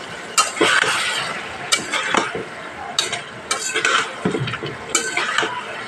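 Katla fish curry with ridge gourd and potato being stirred and sautéed in a pan: loud, repeated scrapes of a utensil against the pan over a steady sizzle, with no one speaking.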